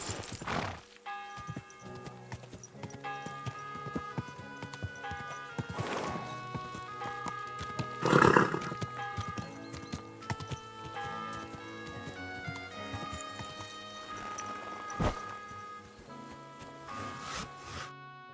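Hooves clip-clop in a busy rhythm in Kingdom Come: Deliverance II against a layered background, with a brief whinny-like burst midway and scattered clicks, close and moderately loud.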